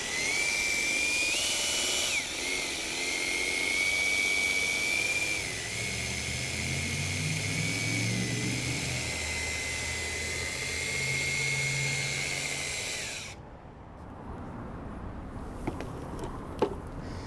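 A drill mixer whines steadily at a high pitch for about thirteen seconds, churning StaynTech stain in a bucket, then stops, leaving faint clinks.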